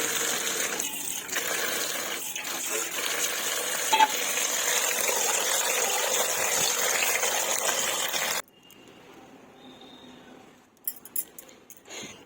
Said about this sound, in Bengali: তো শাকগুলো আগে ধুয়ে নিই